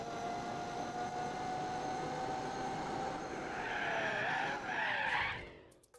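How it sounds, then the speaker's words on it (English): A race car in Gran Turismo 4 spins out violently, its tires squealing in a long, loud, sustained skid over engine drone, the pitch sliding and swelling before the screech cuts off abruptly near the end. "I've never had the car violently, like, spin out on me like that"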